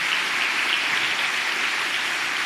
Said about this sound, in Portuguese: vamos aplaudir o Thiagão